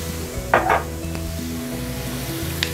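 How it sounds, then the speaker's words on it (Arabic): A spoon stirs a seasoned spice mix of salt, pepper and cumin in a bowl for chicken breasts, giving two short scraping bursts early on and a faint clink later, over a steady low kitchen hum. "ونبتدي نقلب الخليط بتاعنا"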